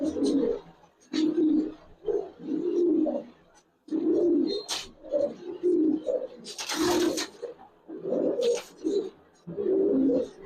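Racer pigeons (Gribaz and coloring breeds) cooing close by in repeated low rolling bursts, with occasional flutters and sharper sounds between the coos.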